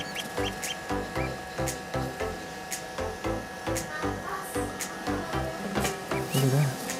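A newly hatched duckling with still-wet feathers peeps in a DIY incubator, sending out a steady run of short, close, rhythmic chirps at an even pace that grow louder near the end.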